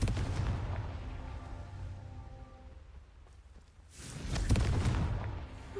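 A Confringo fire spell blast in Hogwarts Legacy: a dull rumbling bed, then a loud burst about two-thirds of the way through that swells into a crackling roar.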